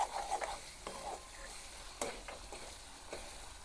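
Tomato chutney cooks in a pan, a soft steady sizzle broken by several scraping stirs of a spoon against the pan, quiet and close.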